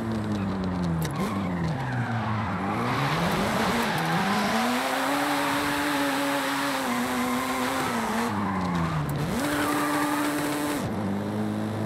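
Tires of a Mazda RX-7 squeal and skid steadily while drifting in Forza Horizon 5, the engine droning with pitch rising and falling through slides and gear shifts, loud and continuous throughout.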